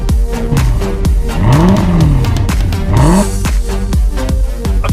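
A Mercedes S63 AMG engine is revved in loud, close bursts, each rising sharply in pitch and falling back. Throaty idle rumble fills the gaps, with a crackle on the lift-off.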